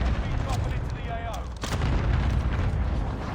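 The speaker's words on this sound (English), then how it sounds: "I'm not a fan of all these airstrikes." Heavy explosive booms and gunfire from airstrikes in a Call of Duty match on Rebirth Island, a dense continuous barrage rumbling loud throughout with a brief dip midway.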